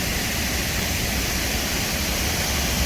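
Steady, loud roar of a waterfall at Little River Canyon National Preserve in northeast Alabama, a continuous broadband rush of falling water heard from nearby without any voices.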